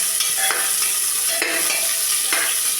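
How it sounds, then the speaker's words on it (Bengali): Crushed garlic and chopped onion stirred in a hot pan over a low-to-medium gas flame, a steady sizzle broken by a few scraping strokes of the spoon, close and alone. "একটা পেঁয়াজ কুচি, এটাকে আমি একটু ভালো করে নেড়ে চেড়ে মিশিয়ে নেব"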